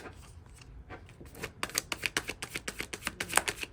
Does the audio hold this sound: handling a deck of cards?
yes